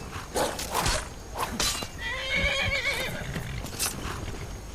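A horse in Skyrim whinnies loudly in a long, wavering neigh, preceded by a few sharp hoof clops and clatters nearby.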